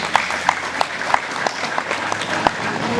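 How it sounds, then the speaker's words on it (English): An audience at an awards event claps, a sparse scattering of distinct hand claps at an uneven rhythm rather than a full ovation, fairly close and with no talk over it. "Yes, you can clap hands for that."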